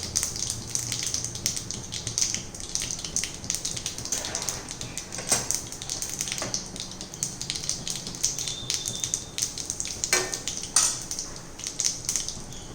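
Urad dal and hing frying in hot oil for an avial tempering, a steady close crackle and sizzle of irregular pops and spitting that runs throughout, with some quiet talk.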